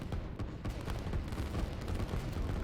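Artillery fire during a sneaky multiplayer war game match, heard as a dense, continuous rumble of booms and gunfire with repeated sharp thuds throughout, fairly loud and with no voices over it.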